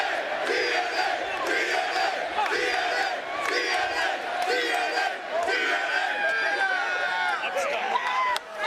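Wrestling crowd at TNA Bound For Glory 2008 during a Sting vs Samoa Joe heavyweight title match, loud roaring and chanting voices rising and falling continuously, close and dense throughout.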